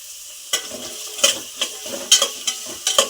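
Finely chopped carrot frying with onion in a pan, a steady sizzle broken by repeated scraping stir strokes, close and fairly loud, with no talking.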